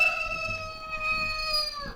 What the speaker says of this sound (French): Écoutez, le coq chante